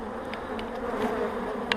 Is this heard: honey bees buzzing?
yes